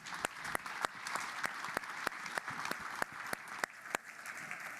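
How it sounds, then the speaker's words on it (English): Audience applause for an investor panel at an innovation expo, a short round of clapping from a modest indoor crowd with individual sharp claps standing out, fairly faint and steady. "another quick round of applause for our investor panel."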